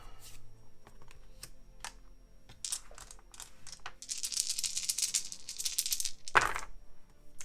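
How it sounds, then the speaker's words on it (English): Four dice are rolled for the board game Dice Throne: scattered light clicks, then a few seconds of dense rattling as they tumble, ending in a firm thud as they land, close and fairly clear. "He's going to roll 4 dice."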